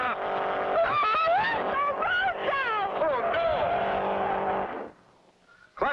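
A race car tears along a road at over 100 miles an hour, its loud engine whining in repeated rising and falling sweeps for about four seconds before cutting off abruptly into near silence.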